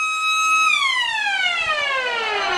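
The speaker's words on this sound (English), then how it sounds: "And the siren sounds there for quarter time." A loud electronic siren marks quarter time at an Australian football cup match, holding a steady tone before sweeping smoothly downward in pitch as it winds down, heard alone.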